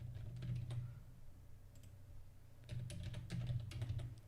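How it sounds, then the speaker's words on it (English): Bursts of rapid keyboard typing, a dense run of clicks near the start and another toward the end with a quieter gap between, close and clear with no talking. "I gotta get faster at typing."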